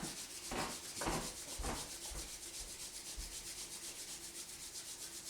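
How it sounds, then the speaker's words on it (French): Hands rubbed briskly together during a Qi Gong self-massage, a few soft swishing strokes at first, then a steady close rhythmic rubbing that continues quietly to the end, with no talk. "On frotte les mains."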